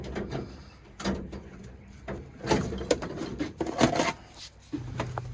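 A workshop drawer is pulled open with a series of scraping, clattering slides and knocks, several separate bursts close by with no one talking.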